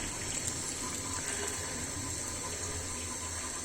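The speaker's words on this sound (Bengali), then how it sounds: "পানিটা দিয়ে দিচ্ছি" Water pours steadily into a cooking pot while a rohu fish and cauliflower curry is being made, a continuous soft gushing rush like a running tap, quiet and even, with no talking.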